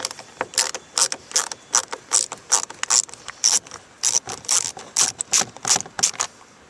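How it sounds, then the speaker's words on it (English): A Phillips screw is backed out of a Kia Forte front door panel, producing a steady run of close, crisp ratcheting clicks in quick repeated bursts with no voices. "we're going to remove the Phillips screw in here as well."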